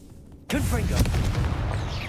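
A Confringo fire spell blast in the Hogwarts Legacy video game erupts suddenly after a quiet start, followed by a loud sustained rumbling burst with crackling debris, up close and dominant.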